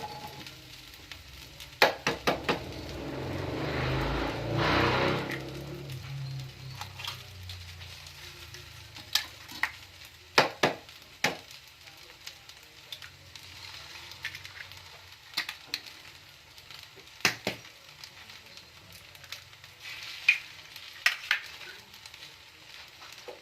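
An egg drops into a pan of fried rice with a loud sizzle that fades into a soft crackle, while a utensil scrapes and taps the pan in scattered sharp knocks; no one speaks.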